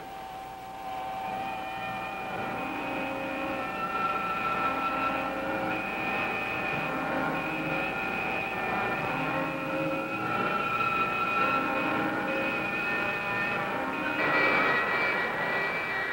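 Spacecraft engine thrust from a 1965 science fiction film: a steady, loud droning roar with sustained whining tones, holding for about sixteen seconds and swelling slightly near the end, with no voices over it.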